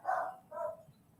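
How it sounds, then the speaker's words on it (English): A puppy gives two quick, moderately loud yappy barks close by, with nothing else heard. "yes, my puppy is being loud right now."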